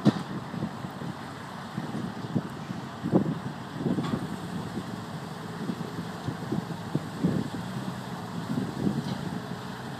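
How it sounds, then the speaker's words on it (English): Steady low wind rumble buffets the microphone, with gusty surges rising and falling throughout, beside a 2010 Dodge Viper ACR. "It's a windy day"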